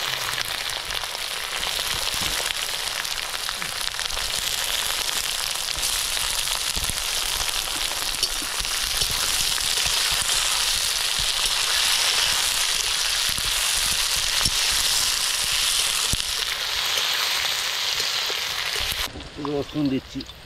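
Onions frying in hot oil with curry leaves for a pork head curry give off a steady, loud, dense sizzle that holds for most of the stretch and cuts off abruptly near the end, with faint talk underneath.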